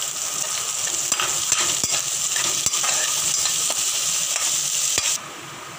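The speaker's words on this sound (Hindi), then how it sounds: "बस हमें इसको इतना भूनना है कि इसका कच्चापन निकल जाए।" Capsicum and spring onion fry in a hot pan with a steady, bright sizzle. A spatula scrapes and clicks now and then as the vegetables are stirred, and the sizzle drops away sharply at the end.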